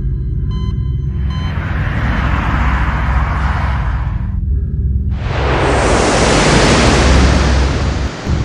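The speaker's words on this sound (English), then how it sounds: "International Space Station." International Space Station ambience: a loud, steady broadband roar with a low rumble, briefly dropping to a quieter hiss before surging back up to full strength, with no voices.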